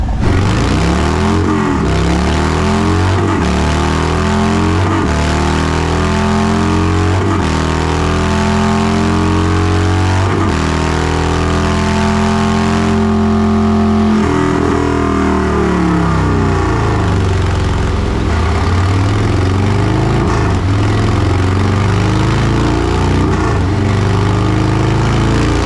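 Harley-Davidson motorcycle engine with aftermarket exhaust running on a dyno, loud and close, with repeated revving pulls that rise and fall before one long sustained climb through the gears, deep throbbing exhaust throughout.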